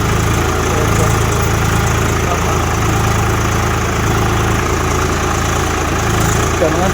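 A tractor engine runs at a steady idle, a continuous low chugging drone with an even mechanical vibration that holds unchanged from start to finish.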